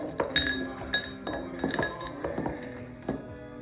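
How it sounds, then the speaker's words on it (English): Glass clinks repeatedly as a face mask mixture made with apple cider vinegar is stirred in a glass, producing about seven or eight bright, close taps in an uneven rhythm with no talking. "So, I'm just mixing it up."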